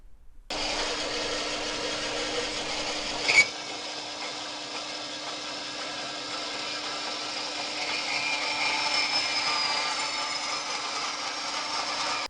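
A power tool cuts through a boost pipe on an Astra H VXR time-attack car, giving a sustained, steady whine close by, with a sharp knock early on and a slight rise in pitch and strain toward the end.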